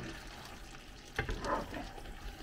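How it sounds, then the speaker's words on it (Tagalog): Spicy pork estofado with pineapple and banana simmering in a pot, a faint, close bubbling and light sizzle with a few soft clinks or stirs partway through. "Kumukulo siya."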